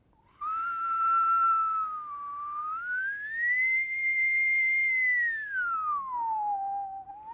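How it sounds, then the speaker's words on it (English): A person whistles one clear, sustained tone that slides slowly up and then back down in pitch, close and alone against quiet. "but watch me whistle"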